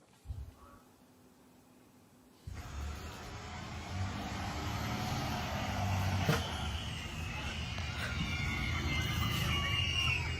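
A local school bus drives past on a residential street, its engine rumble rising gradually over steady background noise. A few brief clatters and hisses cut through the passing drone.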